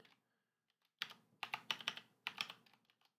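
Close computer keyboard typing comes in rapid clusters of crisp key clicks separated by brief pauses. The keystrokes are quiet and no one speaks.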